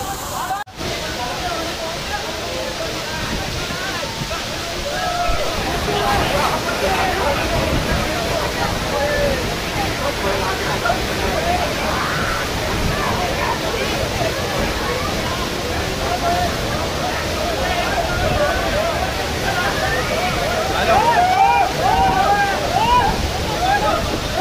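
Kempty Falls in Mussoorie, Uttarakhand, a high-pressure waterfall, roars as a loud, steady wash of rushing water heard from close by throughout, with voices talking over it.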